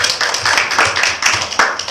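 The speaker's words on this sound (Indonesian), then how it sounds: "Beri tepuk tangan teman-teman" Classmates in a classroom clap together for a group of presenting students, a steady flurry of many hands close by, lasting the full two seconds without talk.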